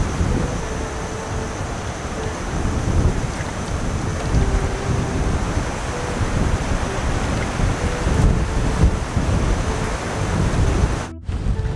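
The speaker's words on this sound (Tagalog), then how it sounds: "Sobrang lakas na hangin kasi may bagyo eh." Loud, continuous typhoon wind roaring and buffeting the microphone, with a surf-like rumble underneath and a brief dropout near the end; no talking.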